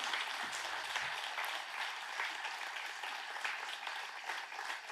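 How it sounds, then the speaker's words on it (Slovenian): An audience at a municipal holiday celebration applauds steadily, dense clapping that fills the space evenly at moderate loudness throughout. "predlagam, da gospodu bučno zaploskamo."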